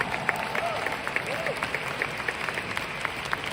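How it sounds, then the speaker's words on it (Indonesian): Faint, distant applause from an audience at an international business seminar, light steady clapping continuing throughout at low level. "Kita pantas beri tepuk tangan meriah untuk Anda semuanya"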